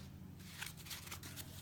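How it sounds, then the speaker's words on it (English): Cards being shuffled during a tabletop board game: quick papery riffling and crackling in short bursts over a steady low hum, close by, with no talking. "I'm gonna shuffle up"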